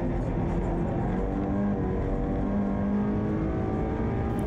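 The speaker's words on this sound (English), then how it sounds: "the car is jumping all the way from second to third gear" Audi RS3 LMS WTCR race car accelerating hard on the Adria International Raceway street circuit section, engine note climbing steadily and shifting from second to third gear, loud and continuous from onboard.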